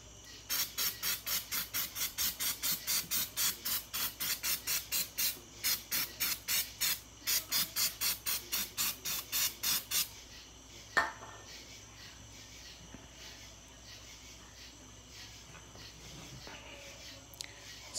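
Rapid bursts of a spray bottle hiss over a Chevrolet rim to lift spray paint, roughly two dozen sharp pumps in quick clusters, close up, followed by quieter handling sounds.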